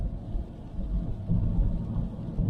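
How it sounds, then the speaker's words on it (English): Steady rain and wind roar while riding a scooter on a rural road during a scooter rally in Skegness, a dense continuous low rumble with no talk. "Well, this rain ain't letting up."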